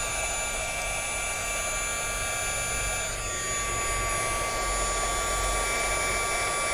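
An embossing heat tool blows steadily as it melts embossing powder on a glass ornament, giving a loud, close, continuous fan roar with a high whine that lasts the whole time.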